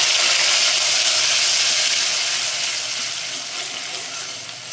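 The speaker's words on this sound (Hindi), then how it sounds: "ये जो पेस्ट है टमाटर और छोले का, इसको डाल देंगे।" Tomato and chickpea paste dropped into hot oil in a pan, giving a loud, dense, continuous hiss and sizzle that fades slightly over a few seconds.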